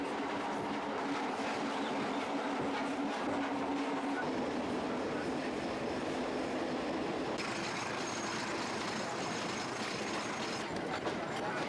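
A train running on rails between Tabora and Morogoro in Tanzania, carrying a freight wagon, gives a loud continuous rumble and roar close by with a steady clatter of wheels, and no talk over it.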